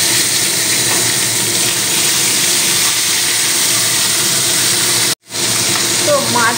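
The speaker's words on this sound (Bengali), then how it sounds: "এবারে আমি নুন হলুদ মেখে রাখা মাছটা ভেজে নেব।" Fish coated in salt and turmeric frying in very hot oil, a loud, steady sizzling hiss that runs throughout, briefly cutting out near the end before resuming.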